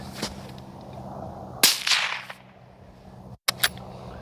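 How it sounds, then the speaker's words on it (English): Rifle fired through a Dead Air Mask suppressor at an outdoor range: a sharp whip-like bullet crack, a louder crack with a brief rolling echo, then a pair of quick cracks, over faint background hiss. "So right away, you can hear the crack of the bullet."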